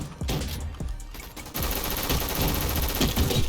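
Dense automatic gunfire in a Roblox shooting game, with scattered shots at first giving way to sustained rapid bursts that sound close and loud.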